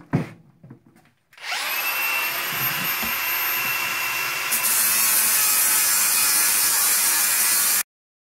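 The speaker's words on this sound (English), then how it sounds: "We're gonna grind it down a bit so that our connection pieces will have a good connection." A power grinder spinning up and grinding down a metal Sherman tank track, a sharp start after a few faint clunks, then a loud sustained high whine with a shift partway before cutting off abruptly, no talking.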